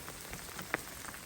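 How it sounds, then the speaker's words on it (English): Hail falls steadily through a pine thicket in a mountain thunderstorm, a faint continuous patter of scattered ticks with one sharper, brighter impact standing out midway. "Now we're getting some thunder and actually hail."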